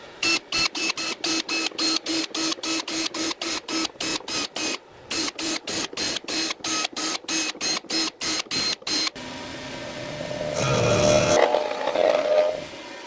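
Surfacing machine making a finish pass on a small-block Chevy double hump cylinder head, a rapid string of sharp rhythmic clacks that pause briefly, then give way to a rising whir near the end, close and loud.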